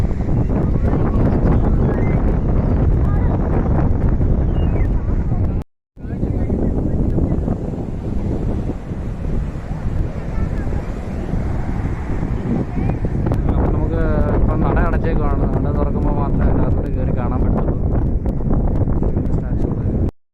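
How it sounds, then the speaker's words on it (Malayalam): Strong wind roars and buffets the microphone almost nonstop on the coast at Azhimala Shiva temple, with a churning rumble of rough sea waves underneath and a brief dropout partway through. "ഭയങ്കര കാറ്റാണ് ഇവിടെ ഭയങ്കര കാറ്റും ഭയങ്കര തിരുമാല അടിക്കുന്നത് ഇവിടെ"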